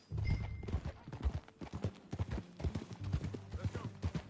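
Horse hooves clip-clop rhythmically at a steady walking pace in a Western-themed video game, faint and fairly close, with an occasional soft snort mixed in.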